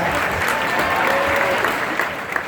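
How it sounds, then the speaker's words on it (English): A large crowd at a school pep rally claps loudly and continuously, a thick, sustained roar of hands with faint cheering mixed in. "big round of applause for our football parents."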